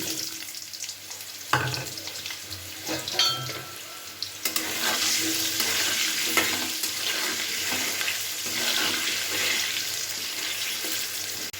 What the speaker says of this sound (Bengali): এবার এর মধ্যে আলুটাকে আগে ভেজে নিচ্ছি।